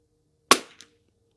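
A single sharp report from a CZ455 Trainer rifle cracks at an outdoor range, followed by a faint secondary tick, with quiet before and after.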